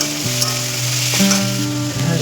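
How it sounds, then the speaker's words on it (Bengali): Potatoes frying in a pan give a loud, continuous sizzle with stirring, alongside a steady low tonal hum and no talking. "এদিকে আলু ভাজা বসিয়েছি"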